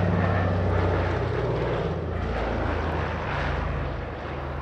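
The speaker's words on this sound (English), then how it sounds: "So as that aircraft departs off slot back to Duxford" Vintage propeller aircraft departing at the Shuttleworth airshow, a loud steady engine drone with a buzzing propeller tone, holding close and even before easing slightly toward the end.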